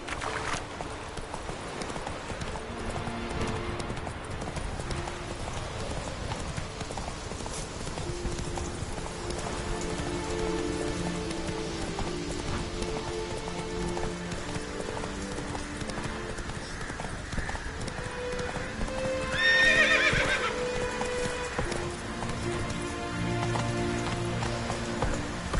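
Roach, the horse in The Witcher 3, gallops with a steady, rhythmic clip-clop of hooves over rain-like ambience, with brief speech now and then.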